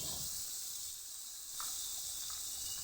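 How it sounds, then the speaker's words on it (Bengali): Beans, carrots and capsicum frying in a pan for paneer fried rice: a steady, bright sizzling hiss held throughout, close and even, with no talk. "বিনসগুলো যখন এই পরিমাণ ভাজা হয়ে গেছে তখন আমি দিয়ে দিচ্ছি গাজর আর ক্যাপসিকাম"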